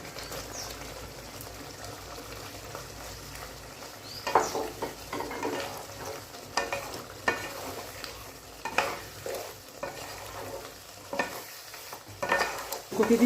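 Boiled then fried cauliflower florets with spices and sour yogurt being stirred in a pan, giving a soft continuous sizzle broken by irregular scraping and clattering strokes of the spoon that grow louder and more frequent midway.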